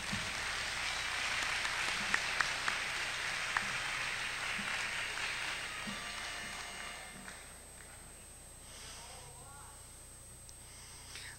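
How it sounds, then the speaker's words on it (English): Audience applause for the judges at a Worldcon masquerade, soft and distant, with a few sharper claps standing out early before the clapping dwindles to a faint patter in a large hall. "our judges really do deserve a round of applause"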